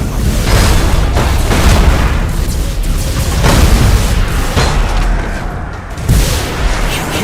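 Thunderhawk bombardment in the space strategy game Battlefleet Gothic Armada 2 produces a loud, dense barrage of booming explosions and rumbling blasts, rolling continuously with repeated heavy impacts.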